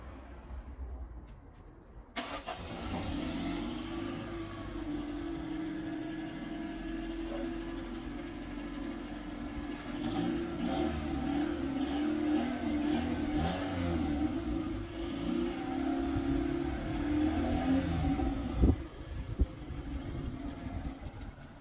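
A car engine idles low, then revs up repeatedly through the exhaust with a steady throaty rumble, close by, with a couple of sharp blips near the end.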